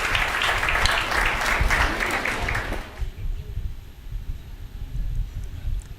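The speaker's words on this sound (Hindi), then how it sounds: "एक बार जरा जोरदार तालियां।" A crowd at a comic poetry gathering claps loudly for about three seconds before the noise stops abruptly, leaving quiet room noise with faint voices.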